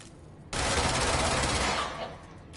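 Gunfire in the video game Control rattles out as one sustained rapid burst that starts abruptly, stays loud and dense for over a second, then tails off into fading noise.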